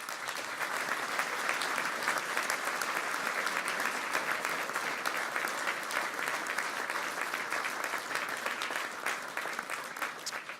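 Sustained, dense applause from a large audience at a political New Year's greetings speech, steady and loud throughout with no voices standing out.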